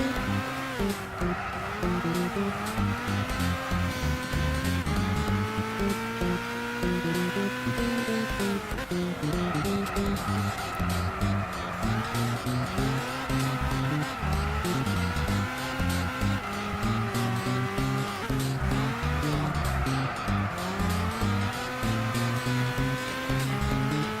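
Peugeot race car in Gran Turismo 6, its engine droning loud and continuous with pitch climbing through gears and dropping on shifts, mixed with repeated tire squeal through corners.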